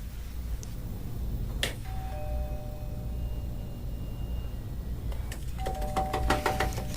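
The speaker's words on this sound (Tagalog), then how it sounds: "Huwag mong pindutin ang doorbell." A single doorbell chime rings out in a quiet room, followed a few seconds later by a second ring with several quick tones.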